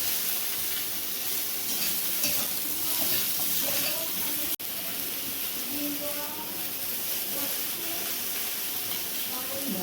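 Eggplant pieces fry in hot oil, a dense, loud, continuous sizzle and hiss that fills the whole stretch with faint stirring underneath and one brief dropout midway.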